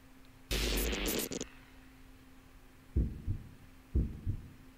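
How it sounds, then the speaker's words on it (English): A video game heartbeat thumps after a loud burst of noise, two paired double beats about a second apart, soft and low against a steady hum. "her heartbeat's picking up"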